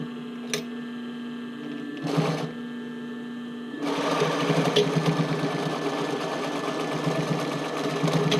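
After two short whirs, a sewing machine stitches steadily along a sports bra waistband, close and loud, with a constant motor drone running the rest of the way.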